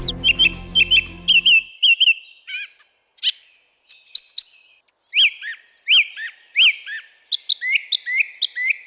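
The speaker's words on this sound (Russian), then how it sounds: "лидерами по звуку, конечно, являются современные птицы. Вы только послушайте." Several birds chirp and whistle in quick, bright phrases, with short pauses between bursts of song; a brief low rumble underlies the opening.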